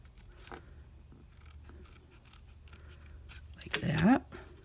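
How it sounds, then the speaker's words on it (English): Scissors cut cardboard at an angle, a short, sharp snipping and scraping burst near the end that follows quieter faint handling noises. "now what we're going to do is we are going to cut just a little bit of an angle"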